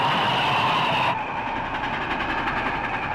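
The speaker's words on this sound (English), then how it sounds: "Looks like the train headed for Valley Ho." A railroad train passing in an old radio adventure drama, a steady rumbling roll with faint rhythmic clatter that suddenly drops in brightness partway as it moves off, no voices.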